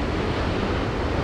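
Ocean waves washing onto a sandy beach near a reef with heavy backwash, heard as a loud, continuous broadband roar of surf and rushing water with no distinct breaks.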